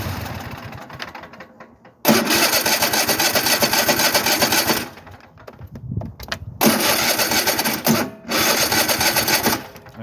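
A small gas engine with a little ethanol-free fuel in the tank is pull-started, giving loud broadband bursts of rope pulls and sputtering roughly 2–5 s, 6.5–8 s and 8.5–10 s, with quieter gaps between, close up.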